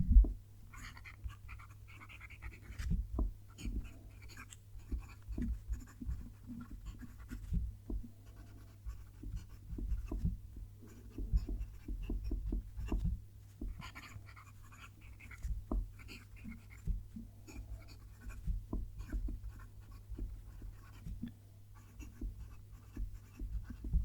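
A Benu Talisman fountain pen nib scratching across paper in close, soft, irregular strokes, with brief pauses between words over a low background hum.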